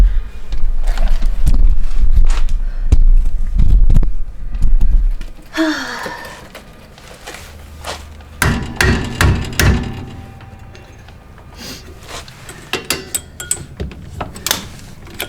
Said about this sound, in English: it just has like this little pin that gets hammered off, and then hopefully it'll pull out.